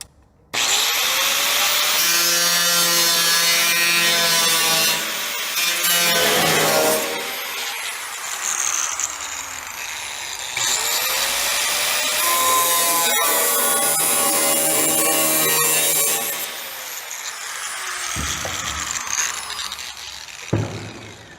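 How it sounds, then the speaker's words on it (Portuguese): Angle grinder with a cutting disc slicing through metal, a loud continuous harsh whine and rasp lasting long stretches, with brief dips as the disc eases off and bites again, close by, no talk. "O corte mais pesado eu vou fazer com a lixadeira, com disco de corte."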